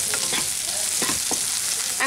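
Kalai dal, black gram, frying in a pan with a steady close hiss of oil, broken by a few soft scraping stirs.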